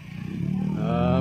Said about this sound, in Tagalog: Buti lang may sarili tayong motor